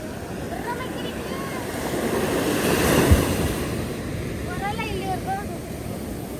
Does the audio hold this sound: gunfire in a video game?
no